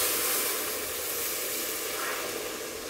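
Thickened boiled milk poured into hot, hardened caramel for a rasmalai dessert, giving a loud, steady hiss of sizzling and steam that holds evenly throughout and fades slightly toward the end.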